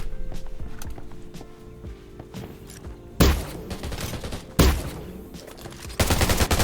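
In the online shooter game Undawn, quiet footsteps and movement give way to three loud bursts of rapid gunfire, each a sharp crackling volley of several seconds, the last still going when the sound cuts off.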